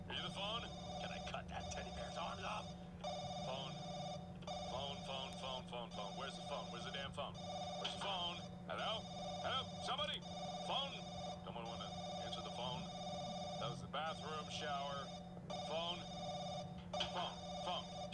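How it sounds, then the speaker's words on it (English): A video game telephone rings in repeated electronic trilling bursts with brief gaps, steady and moderately loud under a constant low hum and scattered game sounds. "I don't know where the phone is coming from."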